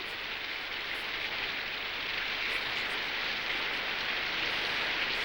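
Steady rain falls throughout in a Western film scene, a dense, even hiss of drops on surfaces that stays constant with no pauses and no voices.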